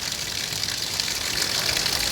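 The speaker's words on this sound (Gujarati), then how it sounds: "વરસાદ હું તમને બતાડી રહ્યો છું અને આ પાણી જુઓ તમે, ભરસક પાણી ભરાઈ ગયા" Torrential rain in Jalalpur village, Gadhada, with floodwater gushing through the streets, a dense, loud, unbroken roar of water with no gaps.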